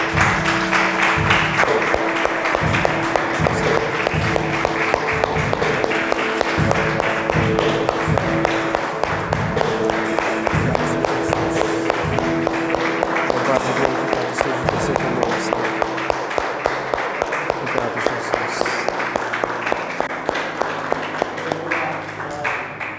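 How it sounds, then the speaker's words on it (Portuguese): A church congregation at a Portuguese-language service applauds, with a steady rhythmic clapping that carries on for over twenty seconds over a sustained tonal background and fades slightly toward the end. "eu te exalto e te aplaudo em nome de Jesus"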